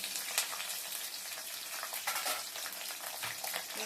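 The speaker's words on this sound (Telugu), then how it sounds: "ఫ్రై చేస్తున్నాను." Green chillies and bay leaf frying in a pan of hot oil for egg fried rice, giving a steady close crackling sizzle with small bursts and pops, no voices.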